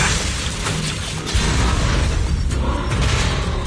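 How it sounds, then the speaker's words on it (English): Fireworks exploding in the video game Zenless Zone Zero, a dense barrage of booms, pops and bursts layered over rumbling low end, loud and continuous with sharper cracks scattered through. "Bring on the Fireworks!"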